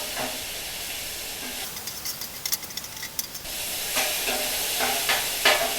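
Carne asada steak sizzles steadily on a Blackstone flat-top griddle, a loud continuous hiss with scattered pops and crackles and brief scraping bursts, close up with no voices.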